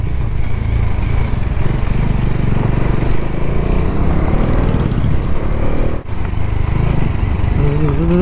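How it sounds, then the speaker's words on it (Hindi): BMW motorcycles ride along a road with full luggage, a steady loud engine drone and wind roar running throughout with a brief dip near the end. "अब इसके साथ में जाऊँगा, वाह बाइक्स BMW।"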